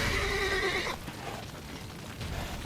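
Roach, the horse in The Witcher 3 game, lets out a loud, drawn-out whinny for the first second, then fades into muffled background noise and faint clip-clop.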